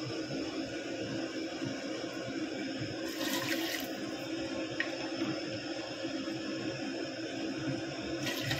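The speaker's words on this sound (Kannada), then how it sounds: "ನಾನಿಲ್ಲಿ 3 ಕಪ್ ನೀರನ್ನು ಹಾಕಿದ್ದೀನಿ." Water is poured into a cooking pot holding chopped tomato, onion and green chilies for thili saaru, giving a rushing, splashing burst over a steady background hiss, with a few faint knocks afterward.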